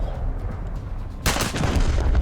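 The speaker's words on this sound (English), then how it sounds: "We'll just fire the two rear guns." USS Texas battleship's main guns fire in War Thunder: a low rumbling backdrop, then one sudden, loud, heavy blast that leaves a dense, sustained roar.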